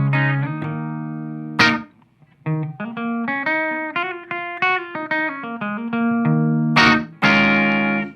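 Electric guitar through a boost pedal, with a slightly boosted, driven tone, plays sustained chords and a melodic run, ringing out clearly with no voices.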